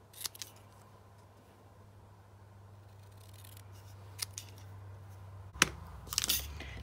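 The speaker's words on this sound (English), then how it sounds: "I'm just going to trim really tight to the letters." Faint, quiet scissor snips as die-cut paper is trimmed tight around letters for a handmade card, a few scattered cuts with a louder crunchy cluster near the end over a steady low hum.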